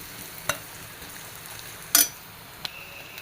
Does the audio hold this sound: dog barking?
no